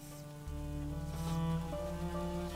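Soft, steady rain hisses in the medieval game A Plague Tale, faint and continuous beneath sustained tonal game music.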